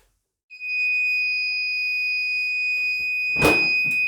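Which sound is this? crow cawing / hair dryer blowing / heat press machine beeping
heat press machine beeping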